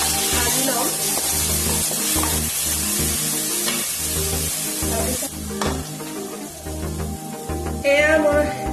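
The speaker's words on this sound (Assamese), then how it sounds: "মই এতিয়া দালিখিনি অলপ সময় ভাজি ল'ম।" Dal lentils fry in a hot pan with a loud, steady sizzle and crackle, broken by scraping stirring strokes that continue close up throughout.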